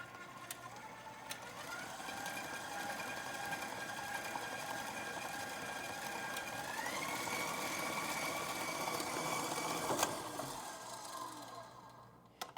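An electric mixer whirs steadily at close range through a vegan, egg-free ladyfinger batter, a continuous motor drone that rises slightly in pitch midway before cutting off near the end.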